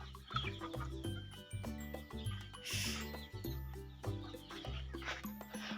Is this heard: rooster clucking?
yes